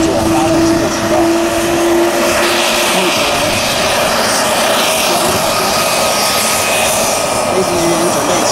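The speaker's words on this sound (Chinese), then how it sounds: "飞行人员准备启动右发动机，我们双发动机启动的顺序为：先启动右发动机，后启动" A twin-engine military jet fighter of the ROC Air Force 443rd Wing starts its right engine on auxiliary power. A loud, steady roar runs with a sustained whine throughout.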